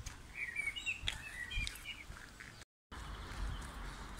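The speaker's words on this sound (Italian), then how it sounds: "Strano, non so quanti tipi di uccelli." Several bird calls and chirps in a city park in Rome, Villa Pamphili, moderately distant over a steady outdoor background, with a brief dropout in the middle.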